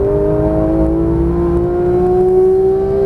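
Porsche 991.1 GT3 accelerating on the Exotics Racing track in Las Vegas, its engine note loud and close with a smooth, steady tone that rises gradually in pitch.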